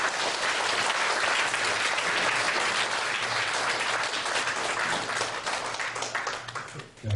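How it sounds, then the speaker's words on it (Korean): A lecture hall audience gives sustained, dense applause for a company chairman at an EMBA CEO talk, a continuous wash of clapping that fades slightly at the close. "우리 회장님을 위해서 다시 한번 뜨거운 박수를 부탁드립니다."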